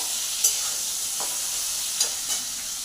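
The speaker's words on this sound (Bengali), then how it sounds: "দেখো আলুগুলোকে দিয়েছি, আলুগুলোকে ভাজবো।" Potatoes frying in hot oil with nigella seeds give a steady, close sizzle throughout, with a few brief stirring scrapes on top.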